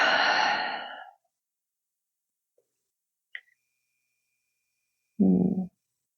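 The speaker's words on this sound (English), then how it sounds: "Take a big breath." A deep breath during a guided movement and meditation session, one slow inhale-exhale swell at the start, then near silence with a faint click, and a second short breath sound toward the end.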